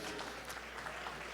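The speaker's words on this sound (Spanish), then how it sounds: "denle el aplauso fuerte al Señor" A church congregation gives a short burst of applause, a soft and dense wash of clapping heard from a distance at low volume.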